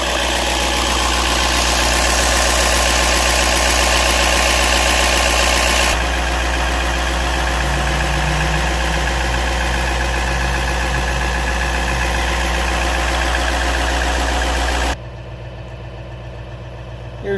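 Deep, steady rumble of a 2016 GMC 3500HD pickup's 6.6 Duramax diesel engine idling close by, constant and unbroken, dropping in level near the end as the sound shifts.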